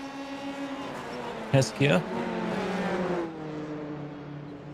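Race cars in iRacing finish at the Belle Isle street circuit, engines humming and whining steadily in the background beneath a commentator's voice.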